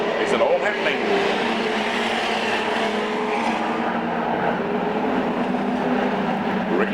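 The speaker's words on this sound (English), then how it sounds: "You can virtually hear the Ford Falcon screaming coming out of the 3-4 turns." Ford Falcon stock car racing at Archerfield Speedway, engine noise a steady roaring wash of passing cars, dense and continuous throughout with a race commentator's voice running over it.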